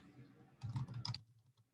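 Keys tapped on a desktop computer keyboard in a short burst of quick clicks lasting about half a second, close and moderately quiet, surrounded by low room hum.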